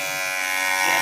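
A steady electric buzz of a hair trimmer cutting hair close up, one continuous drone with no voices.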